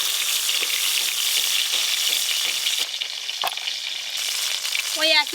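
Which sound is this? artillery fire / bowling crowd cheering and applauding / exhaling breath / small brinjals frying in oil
small brinjals frying in oil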